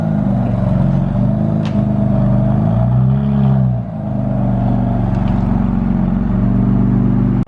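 A BMW F80 M3 on a test drive after a steering wheel alignment fix, its engine giving a loud, steady low drone from inside the cabin, with a brief dip in tone partway through and no talking.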